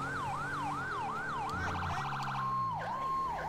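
Police siren in GTA 5, a loud close wail cycling in rapid rising-falling sweeps, then switching to a fast yelp and a long steady tone before dipping again, with engine noise beneath.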